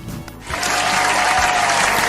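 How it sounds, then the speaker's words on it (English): A short burst of applause rises at about half a second and holds steady to the end, a small group clapping for a student who answered a science lesson question correctly, with a faint voice at the very start. "You deserve a clap for that."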